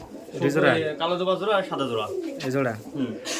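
Pigeons coo in a pigeon farm's loft, close up: rolling, throaty coos that overlap one another in a continuous murmuring chorus.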